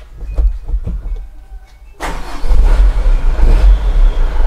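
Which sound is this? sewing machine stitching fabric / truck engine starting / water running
truck engine starting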